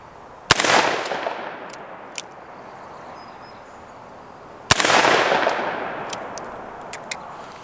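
Two loud revolver shots from a Ruger Security Six, fired outdoors at a 100-yard silhouette target, crack out several seconds apart, each followed by a long rolling echo that slowly fades.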